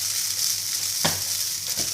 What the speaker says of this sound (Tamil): இது நல்லா கோல்டன் ப்ரௌன் கலரில் வர அளவுக்கு வறுத்துக்கோங்க